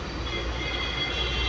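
A train at Erode railway station produces a steady, continuous rumbling roar, close and even throughout, with no voices.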